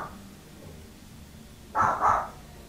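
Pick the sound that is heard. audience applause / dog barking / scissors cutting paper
dog barking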